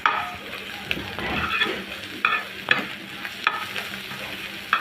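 Flat beans and egg frying and being stirred in a pan, with a steady sizzle under repeated sharp scrapes and clinks of a spatula against the pan, close and alone.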